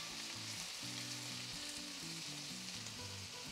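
Chicken thighs and garlic frying in oil and butter, a steady close sizzle that holds throughout with no one talking.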